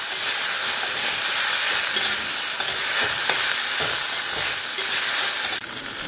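Potatoes frying and being stirred in a pan for a fish-oil chachchari, with a steady loud sizzle and scattered scraping stir strokes throughout, no talk.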